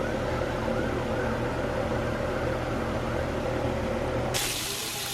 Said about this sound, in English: We hear the fire trucks, guys.